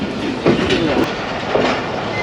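The Karachi Express rolls slowly through the Hyderabad station yard after the 2022 floods, giving a steady rumbling clatter of wheels on track heard from inside the train, with a faint squeal and no clear talk.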